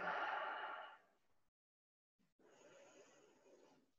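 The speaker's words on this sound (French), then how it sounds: "Vous pouvez même accentuer le bruit de l'expire. Vous devez vous entendre à l'expire comme ceci." Two audible exhales through the nose during vinyasa yoga breathing, close and soft, the first stronger and the second longer after a brief pause.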